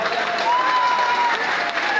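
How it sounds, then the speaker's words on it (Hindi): Dense, sustained applause from a large audience at a Meghwal community mega-convention in Sirohi, Rajasthan, filling the whole stretch at steady loudness with a faint crowd murmur beneath. "उन तमाम मेघवाल समाज के साथियों के लिए जबरदस्त तालियों का अवकार हो जाए"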